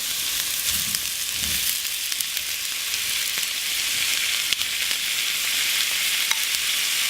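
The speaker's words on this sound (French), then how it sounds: "faire revenir le tout avec les tomates. Une fois que mes oignons ont blondi" Onions and tomatoes sizzle steadily in a pan for Lebanese moussaka, a continuous close frying hiss with faint stirring scrapes and a few sharp crackles.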